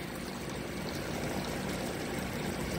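Hot water pours steadily into a bowl for ramen noodles, a continuous close splashing stream with no talk over it.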